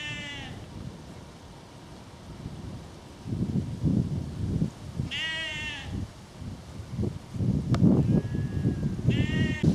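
Sheep bleat several times in the English countryside, some nearby and some farther off, over wind rumbling against the microphone.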